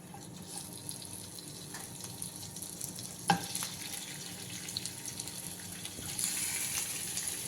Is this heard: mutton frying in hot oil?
yes